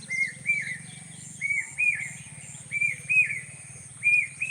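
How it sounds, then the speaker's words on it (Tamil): Asian koel calling on a winter morning, its rising clear whistled notes repeating in steady pairs about every second and a half, fairly near over a constant low hum and faint background birdsong. "குயில் பாருங்கள் எவ்வளோ இனிமையாக கத்துது"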